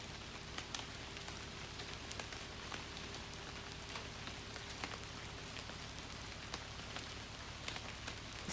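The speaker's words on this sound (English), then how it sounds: "Started raining on us, so Todd threw up this makeshift tarp" Steady rain pattering on surfaces at a campground, a soft even hiss of drops with scattered sharper ticks, no voices.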